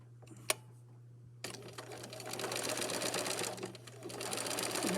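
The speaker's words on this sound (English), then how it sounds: "So now I'm going to stitch it right along here" Sewing machine stitching along the top edge of a fabric band, a close steady whirring run after a short quiet start with a single click, under a constant low hum.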